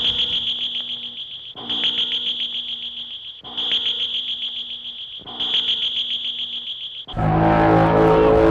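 Alien sound effect from the 1953 War of the Worlds film: a shrill pulsing electronic chirp repeated in four bursts with short gaps, ending in a louder harsh noisy blast, with no talk.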